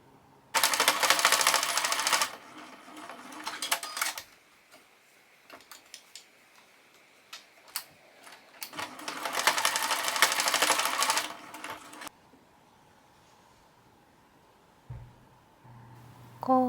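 A sewing machine basting two overlapped fabric pieces of a small patchwork pouch runs in two loud, rapid bursts of stitching, separated by quieter handling and light clicks.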